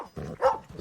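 Dog in the video game Red Dead Redemption 2 barking a few times in quick succession, short, mid-range yaps at moderate distance, no talk over them.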